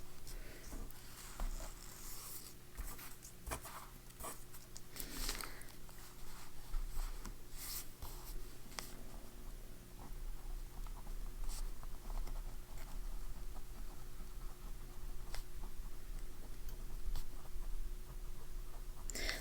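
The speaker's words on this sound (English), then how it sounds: "This fine nib is like really good for writing in this Hobonichi space." Fine-nib fountain pen writing on paper in a Hobonichi planner, faint scratchy strokes in short irregular bursts over a steady low background hum, close to the microphone.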